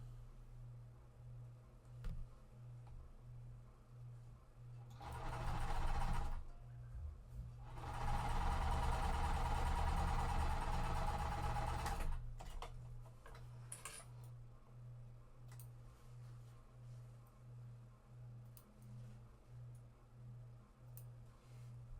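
Sewing machine stitching quilt pieces for a mystery quilt, a steady low mechanical hum with regular needle ticks, rising into two louder bursts of fast stitching in the middle before settling back to a quiet idle rhythm.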